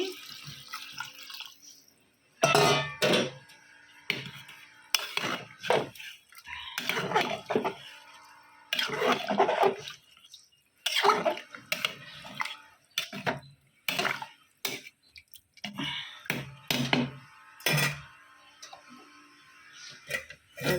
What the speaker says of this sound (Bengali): তো আমি খিচুড়িটায় জল দিয়ে দিচ্ছি